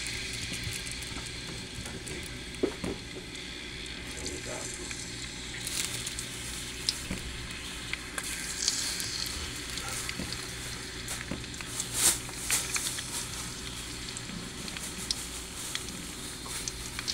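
Garlic frying in hot oil for a burong kanin guisado: a steady, close sizzle with scattered pops and crackles throughout.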